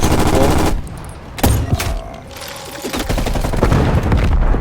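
Shotguns fire in a hardcore-mode shooter video game, a burst of loud booming blasts followed by scattered further shots and a steady rumble of game noise.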